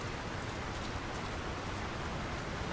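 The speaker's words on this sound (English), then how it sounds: "Who could live in a town where it's always raining?" Steady, dense rain pours over a town in Lord of the Rings: War in the North, a constant even hiss with no breaks and no voices.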